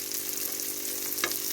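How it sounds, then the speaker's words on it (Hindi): Chicken shami kebabs sizzle steadily in hot oil in a pan, a continuous close hiss with a brief scrape of a utensil near the end. "तो मैं इसको विदाउट जो अंडा लगा के जो है वो फ्राई कर लूँगी।"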